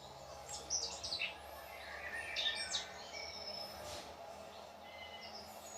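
Recorded birdsong played back from a Hafiz talking pen, several short chirps and twittering calls that sound small and slightly tinny, with quiet gaps between phrases.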